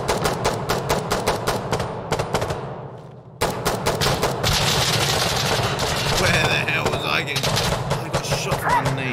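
Rapid automatic gunfire in a first-person shooter game, a dense loud run of shots that briefly pauses, then resumes in continuous overlapping bursts with explosions and game noise.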